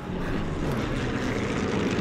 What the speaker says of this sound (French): Y'a l'avion! Y'a l'avion!